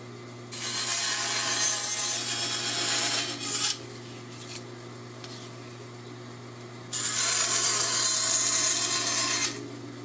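A saw cuts a piece of wood for a spline in two long, loud passes of steady rasping strokes. A low hum fills the pause between them.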